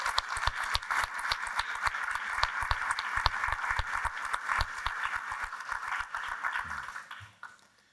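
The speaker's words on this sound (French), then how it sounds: "je pense que ça mérite une main d'applaudissement de vous tous ce soir ici" An audience at an evening gathering applauds together, a dense wash of many hands clapping steadily for about seven seconds before fading out at the end.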